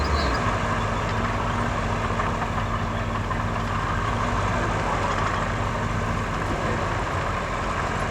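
A heavy diesel bulldozer engine in the video game Roadcraft rumbles at a steady, unbroken drone, close and constant, with no voices.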